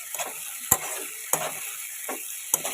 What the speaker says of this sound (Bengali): এবার ভালো করে টমেটোর সাথে পেঁয়াজটাকে ভাজা ভাজা করে নেব।